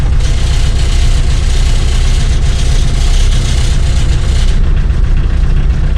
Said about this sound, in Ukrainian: Тракторець запустився.